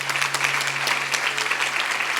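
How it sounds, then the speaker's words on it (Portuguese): Audience at a church sermon applauding loudly, a thick continuous patter of many hands clapping with a low steady hum underneath. "você pode aplaudir mais forte"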